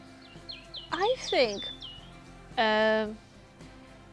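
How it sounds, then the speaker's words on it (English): Bright bird chirps and short tweets sound in a few bursts over a quiet campsite background, with a louder harmonic call near the end. "Can you hear the birds?"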